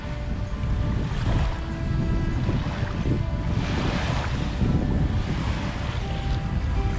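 Lake waves slap and wash against a boat on Table Rock Lake, a continuous churning rush with wind buffeting the microphone, loud and close, no voices.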